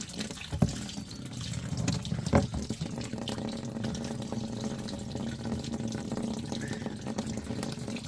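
Tumbled items being rinsed under a running kitchen tap, with a steady close rush of water splashing into a sink and a few brief knocks and clunks of handling at the start.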